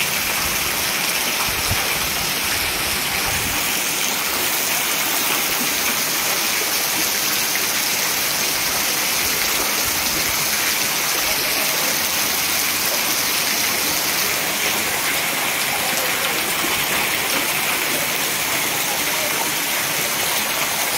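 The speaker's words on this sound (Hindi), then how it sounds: "ज़बरदस्त तरीके से बारिश हो रहा है।" Heavy rain pours down in Khavda, a dense, steady broadband hiss of water that stays loud and unbroken throughout, with no voices over it.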